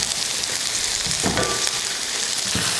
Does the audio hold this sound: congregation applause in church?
no